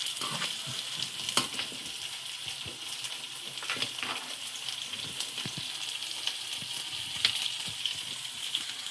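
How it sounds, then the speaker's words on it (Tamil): Ground mint, coriander, onion, garlic and ginger paste is stirred in a pot, giving a soft, continuous sizzle broken by scraping and clinking of the spoon, fairly quiet with no voices. "நம்ம வேறு பாத்திரத்துக்கு மாற்றி கிளறி விட்டுறணும் கிளறி விட்டு அடைச்சி கொடுத்துடலாம்"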